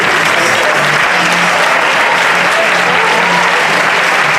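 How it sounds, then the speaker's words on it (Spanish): An audience at a costume contest gives a contestant loud, continuous applause, a thick uninterrupted roar of many hands clapping with a faint crowd murmur underneath. "Un aplauso, se lo mereces"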